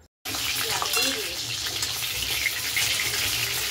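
Chilli chicken pieces sizzle in a pan with a steady, close frying hiss after a brief silent start, running unbroken and fairly loud.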